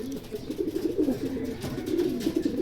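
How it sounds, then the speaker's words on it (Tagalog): Racing pigeons back home after a race coo in low, throaty, rolling bursts, close by and repeating steadily without pause. "bali ito yung mga ibon natin na umuwi galing ng Season Pangasinan"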